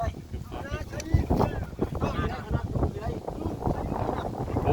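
Wind gusts over a boat on the water in a steady, loud rush with buffeting against the microphone, while people talk underneath.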